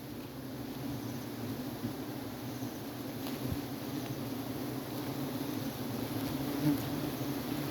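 Giant honey bees swarm around a white honeycomb being cut, a dense, steady buzz close by that runs unbroken throughout with no talk.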